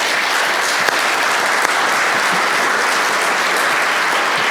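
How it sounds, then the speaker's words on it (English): Audience applause at a public talk with a retired U.S. ambassador about Kyiv: loud, dense, steady clapping from a full room that continues throughout. "A round of applause before we started audience questions, but you beat me to it."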